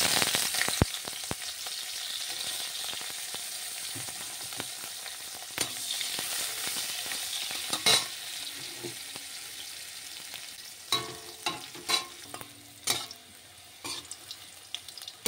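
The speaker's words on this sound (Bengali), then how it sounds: "এখন উচ্ছে ভেজে নিতে হবে।" Bitter gourd pieces frying in oil in a pan, with a steady close sizzle punctuated by sharp clicks and scrapes of a spatula turning them, growing busier toward the end.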